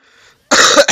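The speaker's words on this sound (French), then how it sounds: "depuis que j'ai bu ce chocolat chaud, j'ai une sacrée toux." A single loud, sharp cough bursts out close by, after a moment of faint background noise.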